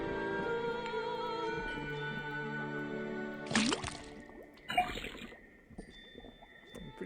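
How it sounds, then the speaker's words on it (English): Water trickles and drips from a faucet into a cauldron in the video game Detective Grimoire, with soft splashes rising over a sustained musical background. "then tap the faucet"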